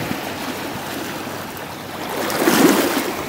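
Sea waves at a beach wash in with a broad steady rushing surge that builds louder toward the end, close by with no talk.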